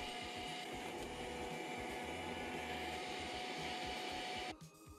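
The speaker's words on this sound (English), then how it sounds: "I'm using a handheld vacuum cleaner. I don't want something very strong to break the cables." A handheld vacuum cleaner runs continuously with a steady whirring motor hum while cleaning around the cables of a PlayStation 4 Pro, close and even, then cuts off abruptly near the end.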